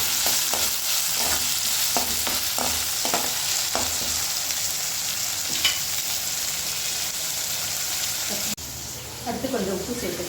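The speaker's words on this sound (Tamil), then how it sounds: "தக்காளி வந்து நல்லா வதங்கட்டும்." Chopped tomatoes sauté in a pan for a mushroom gravy, sizzling loudly and steadily up close while a spoon stirs with repeated scraping knocks, and a voice is heard faintly toward the end.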